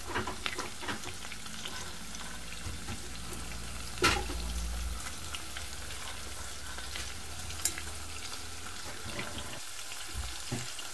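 A handful of unsalted cashew nuts frying in a pan for a shrimp maklouba, a steady close sizzle with a few sharp clinks and stirring sounds, no talking.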